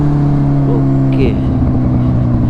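A TVS Apache RR 310 motorcycle rides past nearby on the road, a loud, steady engine drone with shifting tonal hums throughout.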